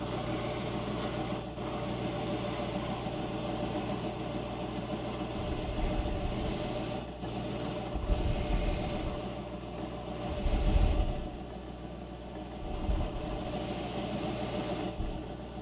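A wooden drawer pull being hand-smoothed to remove bandsaw marks and shape its radius, giving steady close rasping and rubbing strokes in a continuous rhythm, with no talking.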